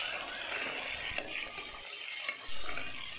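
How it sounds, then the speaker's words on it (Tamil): Ripe tomatoes are stirred and sautéed in a pan for tomato rice, a quiet hiss of frying broken by soft scraping strokes and a brief clunk near the end. "இதை நல்லா இப்போ வதக்கி விடுவோம்"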